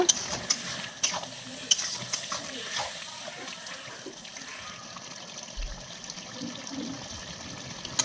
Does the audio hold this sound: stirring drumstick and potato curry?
yes